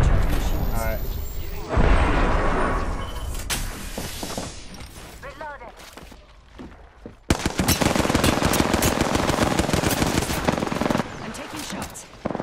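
Rapid automatic gunfire in the battle royale video game Apex Legends, loud and sustained in dense bursts with explosive booms, mixed with in-game voices and player talk.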